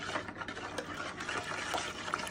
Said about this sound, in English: I'm just stirring it until it all gets dissolved